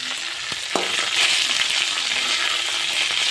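Curry leaves and coriander frying in hot oil for a chicken curry, giving a loud, continuous close sizzle with faint stirring taps and no talk.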